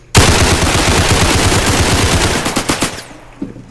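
Loud, sustained automatic gunfire from a video-game weapon rattles in a rapid continuous burst for nearly three seconds, then breaks into a few separate shots before it stops.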